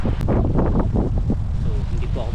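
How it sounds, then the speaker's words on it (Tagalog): Strong typhoon wind from Typhoon Carina (Gaemi) roars steadily across the microphone along a damaged road and river, with a continuous loud buffeting rumble and people talking underneath. "Ang lakas po ng hangin ngayon, bagyo."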